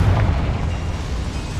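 A Confringo fire spell explodes in Hogwarts Legacy, heard as a loud, sustained low rumbling blast that fills the whole moment with no voices.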